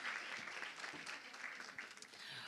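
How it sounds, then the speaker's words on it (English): An audience at the Standard Bank Top Women EmpowHER Conference in Gauteng applauds, a dense, fairly faint wash of clapping that carries on steadily throughout. "Let's give her a round of applause just one more time."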